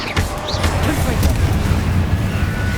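A Confringo fire-blast spell explodes during a Hogwarts Legacy duel, a muffled boom with rumbling that rolls under a spoken voice.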